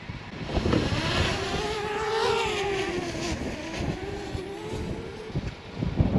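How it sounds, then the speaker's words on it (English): A camera drone launches at sunrise on Haleakala, its rotors giving a steady, close whirring hum with wind rumble that rises in pitch as it climbs and flies off. "we're about to launch the drone into that sunrise"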